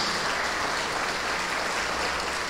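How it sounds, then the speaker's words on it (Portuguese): A church congregation at a sermon claps steadily, a dense, even wash of many hands applauding throughout. "Vamos aplaudir ao nosso Senhor Jesus."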